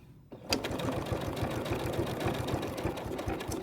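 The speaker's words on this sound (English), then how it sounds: "let me put the foot on, and we're going to start sewing." A sewing machine runs a feathered satin stitch on fabric, starting abruptly after a short quiet moment and then humming steadily with a rapid, even mechanical chatter close by.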